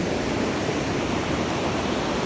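Ocean surf at Corona del Mar, California, a steady, dense wash of breaking waves that stays loud and even throughout with no voices.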